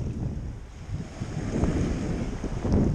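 Steady wind and breaking surf build slightly over a few seconds, a broad rushing wash with gusts buffeting the microphone, heard near and continuous with no talking.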